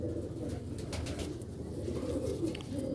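An old-breed Sialkoti pigeon coos close by in a low, repeated rolling call over a soft background hum, with no speech.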